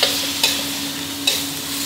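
Spicy pork belly with chilies, basil and kaffir lime leaves stir-fried in a wok over high heat: a steady sizzle with a few sharp scraping strokes of the spatula, close and loud.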